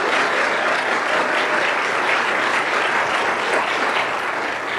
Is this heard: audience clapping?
yes